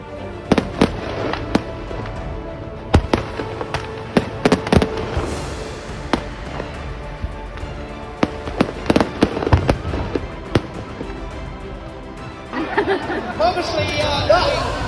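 Rapid bursts of fireworks explosions at a large outdoor event, sharp bangs and crackles in quick irregular clusters, loud and close, with crowd chatter running underneath throughout.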